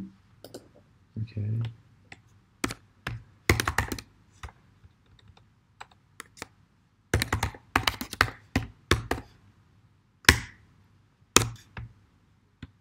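Clattering computer keyboard typing in a terminal, close and crisp, coming in irregular bursts of rapid keystrokes separated by short pauses.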